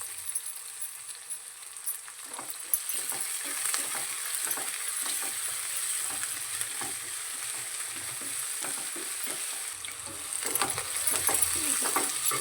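Mint and coriander leaves sautéing in a pan for chicken white biryani, a steady close sizzle with intermittent stirring clicks and scrapes running throughout, no talking.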